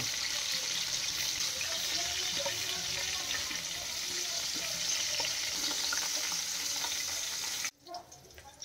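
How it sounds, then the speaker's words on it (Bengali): Prawns frying in oil for prawn pulao in a village kitchen, a dense continuous hiss and sizzle close by that runs steadily, then abruptly drops away near the end, with no talking. "এবার বাকিগুলো আমি ভাজতে দিয়ে দিচ্ছি"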